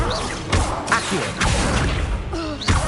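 The Accio summoning spell in Hogwarts Legacy pulling an object in, heard as loud whooshing magical thumps and crashes in quick succession, with a few brief game sounds layered on top.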